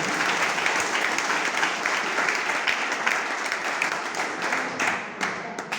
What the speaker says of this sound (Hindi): एक जबरदस्त तालियां फिर से बजा के दीजिए